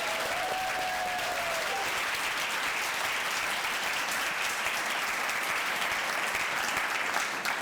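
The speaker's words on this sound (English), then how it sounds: "So one more round of applause." Steady, full applause from an audience at an evening ceremony honoring teaching fellows, an even wash of many hands clapping without a break, with a faint voice briefly audible at the start.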